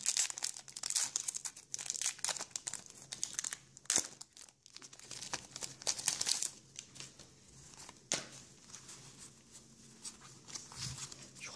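A Pokémon XY booster pack wrapper, from a Spectral Ghost theme set, being torn open: loud close crinkling and crumpling of foil plastic with sharp tearing bursts, continuing throughout with faint talk underneath.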